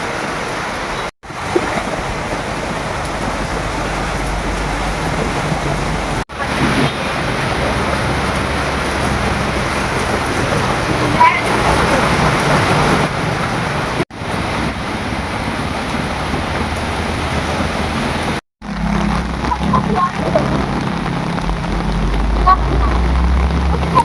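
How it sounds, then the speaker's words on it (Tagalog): Heavy rain pours outdoors while leaving a university campus, a dense, steady hiss that stays loud throughout with a few brief dropouts. "Medyo malakas ang patak ng ambon."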